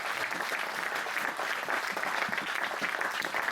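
Church congregation at a Sunday service applauding the Lord, a steady wash of dense clapping that continues evenly and moderately loud throughout.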